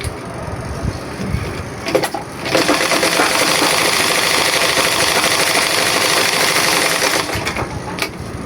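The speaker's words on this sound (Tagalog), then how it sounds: "Ngayon, subukan natin itahi." Sewing machine that had been submerged in a flood and then repaired, stitching steadily and loudly for about five seconds after brief handling noises, then stopping.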